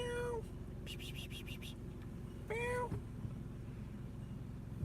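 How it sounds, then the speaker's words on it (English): A tabby cat wearing a collar meows a few times outdoors in a city at night, one short call, a quick stuttering run of meows, then a longer one, over a low steady hum. "Kitty cat with a collar."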